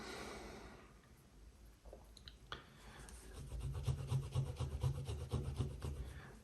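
A Cartier LOVE ring being polished with a polishing cloth: close, soft rasping rubs, quiet at first, then a steadier run of rhythmic strokes that grow a little louder toward the end.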